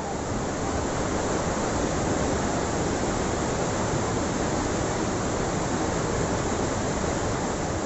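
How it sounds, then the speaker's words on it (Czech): Fast-flowing river rapids on the Songpak River in Thailand, with grade 2 to 3 cascades, produce a constant, loud roar of rushing water that never lets up. "Tyhle rychle tekoucí peřeje vás povedou dolů v 7-kilometrovém úseku s mnoha kaskádama úrovní 2 až 3"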